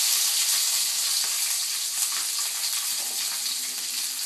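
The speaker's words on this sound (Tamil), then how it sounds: "நல்லா வதக்கணும்." Chana dal, green chilies and curry leaves sauté in hot oil for tomato rice, making a steady, loud, continuous sizzle with faint stirring throughout.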